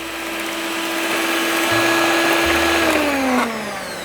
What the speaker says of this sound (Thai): เดี๋ยวเราจะใช้เครื่องปั่นตะก้อมือนะเดี๋ยวเราปั่นให้ดูครับ